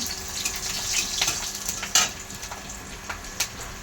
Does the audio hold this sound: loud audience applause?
no